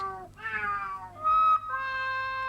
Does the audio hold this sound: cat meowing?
yes